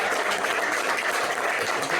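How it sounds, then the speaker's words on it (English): A crowd at a movie premiere Q&A applauds RZA, steady dense clapping sustained for a couple of seconds at moderate volume. "Yo, give RZA a round of applause"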